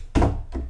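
The ensuite door of a VIP stateroom on a yacht gives two close, dull thunks: a heavy knock followed half a second later by a softer one.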